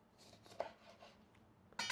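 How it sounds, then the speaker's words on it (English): Limes are sliced open across the middle with a kitchen knife, a sharp cutting crunch near the end after a few faint taps and soft handling sounds. "Cut open your limes across the equator, not pole to pole, so you get this little pattern"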